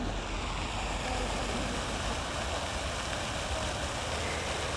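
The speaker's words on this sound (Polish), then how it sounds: "No, fontanna ładnie tutaj dmucha się." An outdoor park fountain sprays water in a steady, unbroken rushing hiss, with a constant broadband wash and no pauses or voices.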